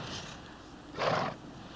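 A horse gives a short, breathy whinny in a Western film scene, one burst of about a third of a second standing out over low, steady background noise.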